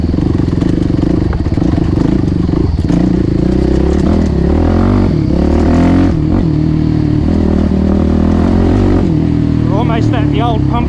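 A motorcycle rolls slowly over a track of large rocks, its engine a steady loud drone near the mic with clattering knocks and a couple of revs as the wheels climb, while a voice talks over it.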